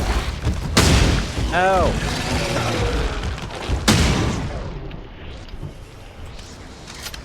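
Gunfire from the video game The Sinking City, a couple of sharp, loud booming shots a few seconds apart with rumbling tails, while a player talks and groans over the game sound.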